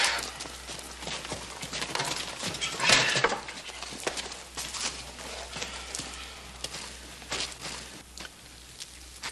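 Horse hooves clop on the ground at a steady walking pace amid outdoor ambience, with no talking.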